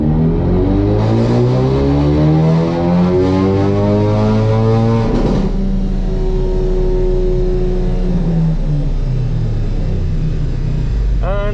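A tuned Ford Focus RS engine revs hard on a dyno, a loud climbing howl that rises to a peak, drops, then carries on with a rough, droning exhaust rumble up close.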